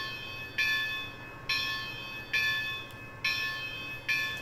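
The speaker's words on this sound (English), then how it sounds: "what we're going to do is put the bell on" A model train locomotive's bell from a DCC sound decoder rings in steady, evenly spaced strokes, five clear clangs about a second apart, over a faint motor hum.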